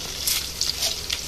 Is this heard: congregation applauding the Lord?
no